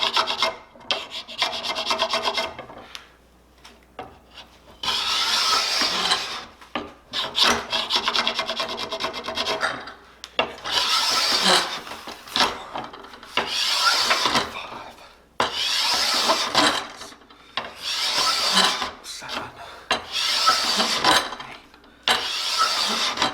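A wooden bow shaved with the beveled edge of a file pulled toward the worker, giving bursts of harsh rasping strokes in close succession, separated by short pauses, loud and near.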